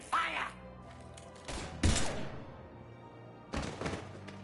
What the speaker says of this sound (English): Now open fire!